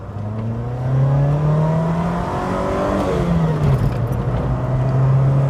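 A 1992 Rover Metro 1.1S small four-cylinder engine pulls hard from inside the car, its droning note rising steadily in pitch, dipping briefly at a gear change, then climbing again at a loud, constant level.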